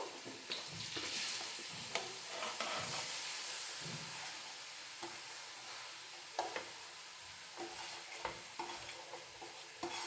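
About a kilo and a half of grated carrot is stirred in ghee for hotel-style carrot halwa, a quiet sizzle broken by repeated scraping and knocking of the spoon against the pan.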